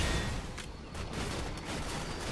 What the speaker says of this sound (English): They're shooting from the fences.